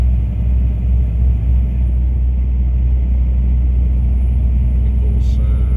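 A car cruising on a busy Dutch motorway with automatic shifting, heard as a steady, loud low rumble of engine and road noise from inside the cabin, continuous and even throughout.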